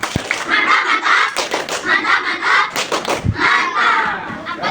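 A classroom of pupils performs the "tepuk mantap" clapping chant, with rhythmic group claps and shouted voices throughout, loud and close, some heavier thuds mixed in.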